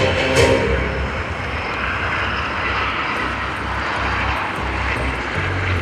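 A T-38 supersonic jet trainer roars past at an air show, a loud sustained broadband engine rush that holds steady throughout, with no talk.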